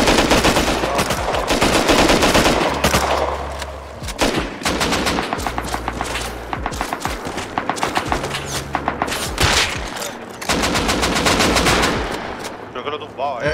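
Rapid automatic gunfire rattles in the survival video game Rust, loud bursts and repeated volleys of shots with short pauses between them, close and dominant.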